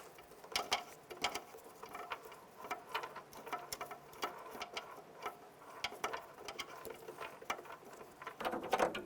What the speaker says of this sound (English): Now I'm going to use a 5mm hex key. Take these screws out.